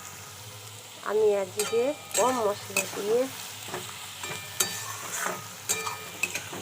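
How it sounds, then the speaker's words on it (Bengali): Onions fry in a pan with a steady sizzle and scraping stirring strokes, close and loud, while someone talks over the cooking. "পেঁয়াজটা ভাজা হচ্ছে।"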